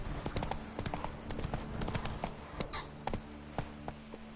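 Horse hooves clip-clop at a gallop in The Witcher 3: Blood and Wine, a steady, close, rapid run of thuds with faint ambient game tones underneath.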